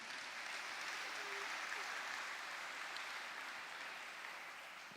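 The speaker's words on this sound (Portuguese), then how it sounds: "Quem pode dar outra salva de palmas para o Senhor Jesus?" A church congregation gives a round of applause for Jesus during a sermon, with dense, even clapping that carries on for several seconds and tapers slightly toward the end, heard from a moderate distance without talk over it.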